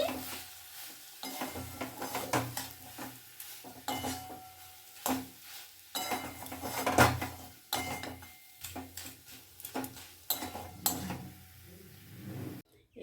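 Fenugreek greens and ghee are stirred in a pan with repeated scraping and clanking of a utensil against metal, irregular strokes over a faint sizzle, close and moderately loud with pauses between.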